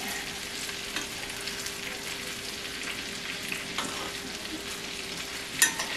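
Butter browns in a hot pan with a steady, close sizzle and frying crackle throughout, plus a brief louder pop of stirring near the end; no one speaks.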